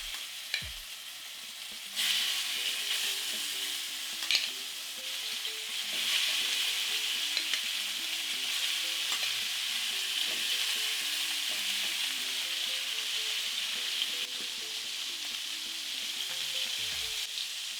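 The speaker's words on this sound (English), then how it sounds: "Start searing the pork." Pork sears in grapeseed oil in a hot pan with a steady, dense sizzle that runs throughout, broken by a few sharper clatters and scrapes as the meat is moved.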